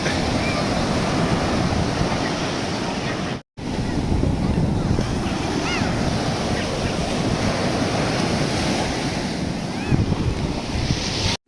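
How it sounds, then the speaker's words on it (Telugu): Ocean surf at Mypad beach near Nellore, Andhra Pradesh, rolls and washes continuously under heavy wind buffeting the microphone, loud and close, with a brief dropout partway through. "నెల్లూరు మైపాడ్ బీచ్ భారతదేశంలోని ఆంధ్రప్రదేశ్ రాష్ట్రంలోని తీరప్రాంత నగరమైన నెల్లూరులో ఉన్న ఒక అద్భుతమైన బీచ్"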